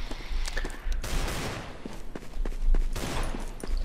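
Counter-Strike: Global Offensive gunfire on the Office map rattles in rapid close bursts and single shots, sharp repeated cracks packed densely across the moment, loud and near.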